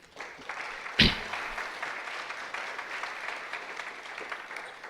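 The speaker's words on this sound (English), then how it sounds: "can we give a round of applause to Derek and his team?" Audience at a cybersecurity career event at a university applauding, a sustained, moderately loud ripple of clapping with one sharp accent near the start.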